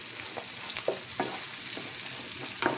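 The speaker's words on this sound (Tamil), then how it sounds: "வெங்காயம் நல்லா வதங்கிடுச்சு 2 நிமிஷம்." Onions frying in a pan for tomato chutney, a steady soft sizzle with occasional stirring scrapes and clicks, heard alone at moderate closeness.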